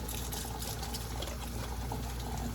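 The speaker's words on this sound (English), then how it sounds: "Just running it under the water, taking my thumbs to make sure all the residue is removed" Tap water runs steadily into a sink as a leaf is rinsed and rubbed clean under the stream, producing a continuous close splashing hiss with no pauses.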